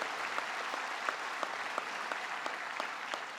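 A crowd applauds at a state address by the New York governor, sustained clapping from a large room with a few sharper individual claps standing out against the steady roar.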